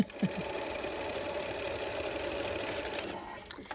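A freshly cleaned, quiet sewing machine stitches a quilt block with a soft, even mechanical hum, close up and running steadily for a few seconds without talk.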